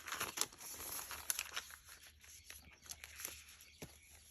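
Dyed paper being cut for a handmade pocket notebook, giving soft, crackly rustling and crinkling that comes in uneven bursts, fairly quiet and close.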